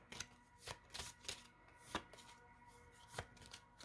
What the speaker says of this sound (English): I felt called to shuffle that, so maybe I will.